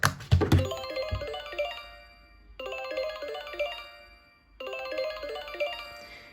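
Bright electronic beeps and boings from a handheld game repeat in three similar jingle-like bursts, close and clear, with a clunk at the start.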